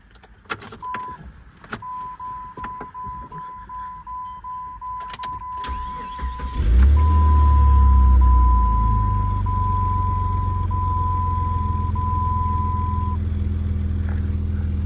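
A 2001 Jeep Grand Cherokee Laredo 4x4 engine, at 183,208 miles, cranks and catches, then settles into a steady idle rumble, with a continuous dashboard chime tone sounding throughout.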